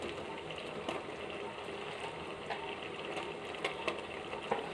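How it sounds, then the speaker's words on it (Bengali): Spicy masala prawn curry with tomato sauce simmering in a pan, giving a steady, close bubbling hiss with small irregular pops throughout and no talking. "ফুটিয়ে নিলেই রেডি হয়ে গেল আমাদের চিংড়ি মাছের কারি।"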